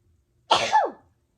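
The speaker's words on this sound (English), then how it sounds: "I have a sneeze coming, sorry." A single short sneeze bursts out close by, sharp and breathy, then trails off into silence.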